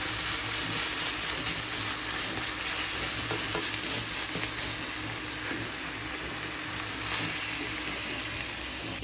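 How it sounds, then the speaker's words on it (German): Minced meat fries in a pan with a steady, continuous sizzle and faint scraping as it is stirred and broken up, with no talking. "Und zerbraten wir das langsam durch und zerkleinern das Ganze."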